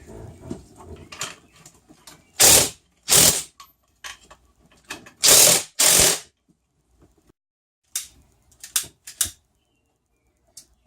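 A crimping tool puts a new end onto a cable, with small metallic clicks and fiddling followed by several loud, sharp ratcheting squeezes in pairs, then quieter handling clicks, all close up and without speech.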